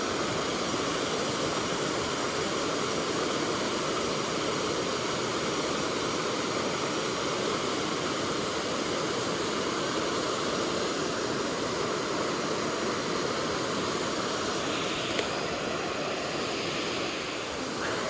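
Steady, full-bodied roar of a hidden waterfall heard close by, a continuous broadband rush of falling water that stays even and unbroken for the whole stretch, with no voices.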